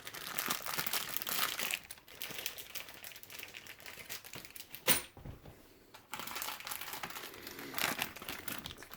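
A plastic parts bag from a Tamiya CC-02 radio-control kit is opened and handled close by, with continuous crinkling and rustling and a sharp tearing snap partway through.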